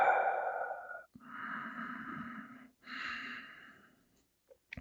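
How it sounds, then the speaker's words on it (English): Slow, deep breaths during a gentle seated yoga twist for shoulder and neck tension: two long, airy inhale-exhale sounds close by, each lasting over a second, separated by brief pauses and followed by quiet. "Just a gentle twist. Deep breath here."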